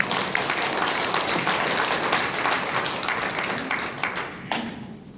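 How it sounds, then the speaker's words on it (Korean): Audience applause at a housing association meeting, steady dense clapping from a crowd that carries on throughout, close and fairly loud. "여러분 특별히 큰 박수를 부탁드리겠습니다"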